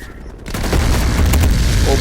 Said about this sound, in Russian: Опа, бомбардировка.